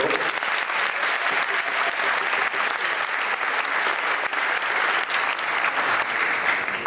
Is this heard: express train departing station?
no